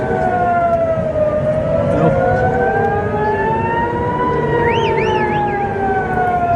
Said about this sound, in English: More sirens. More sirens.